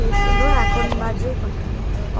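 Low, steady engine and road rumble inside a moving bus in city traffic, with a short horn-like tone near the start and a voice heard briefly.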